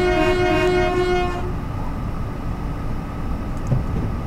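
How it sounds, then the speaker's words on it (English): Train horn from a locomotive in Train Simulator 2013, a loud sustained chord lasting about a second and a half, then fading into a steady low rumble of the rolling train. "I'm now driving a train."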